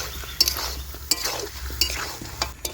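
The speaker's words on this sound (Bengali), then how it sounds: "আর একবার নেড়ে নেব" Chicken being stirred in a pan with home-ground fried spice mix, a steady sizzle under repeated scraping and clinking strokes of a spatula against the pan.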